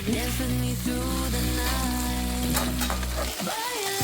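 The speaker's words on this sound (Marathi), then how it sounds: "ते एकदा मिक्स करून घेते" Pasta coated in soy sauce and tomato sauce is stirred in a hot pan, a loud close sizzle with scraping stirs and a few utensil clinks, fading as stirring stops near the end.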